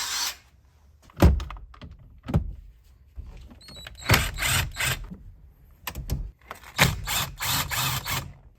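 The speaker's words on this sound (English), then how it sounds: "a cordless impact is not the weapon of choice I would recommend to remove your airbag, but it does work in a jiffy" A cordless impact driver removing Torx T30 steering wheel bolts on a Civic EP3 Si, heard as several short bursts of rattling hammering separated by pauses and clunks, close and fairly loud.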